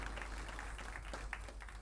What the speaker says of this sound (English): we need to give ourselves a round of applause